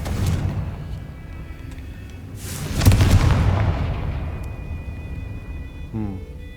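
A Confringo fire-blast spell goes off in the Hogwarts Legacy video game, a loud booming explosion with a rushing burst that rolls off into a fading rumble, preceded by lower ambient game noise.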